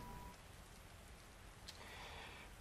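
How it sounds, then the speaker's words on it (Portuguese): Steady rain falling as a dense, even hiss with no pauses, soft and continuous throughout, in the video game Resident Evil 2 Remake. "Tá chovendo dentro da loja?"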